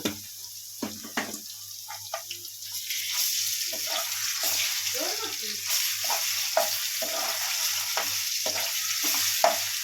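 Ginger paste frying in hot oil with onion and green chilli for a chicken liver fry, a steady close sizzle broken by scraping stirs and light clinks of a spoon against the pan.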